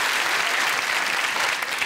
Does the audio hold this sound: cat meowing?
no